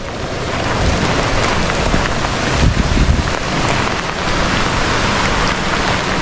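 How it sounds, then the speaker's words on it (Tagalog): Heavy rain falls continuously and densely, a loud steady hiss of drops pounding surfaces with a slight swell midway and no pauses. "sa malakas na ulan at tuloy-tuloy"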